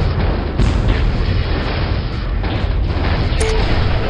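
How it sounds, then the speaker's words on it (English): Enemy weapons fire in the MechCommander Gold combat game roars as a dense, continuous barrage of booming blasts and rumbling explosions, loud and constant throughout. "I'm taking enemy fire."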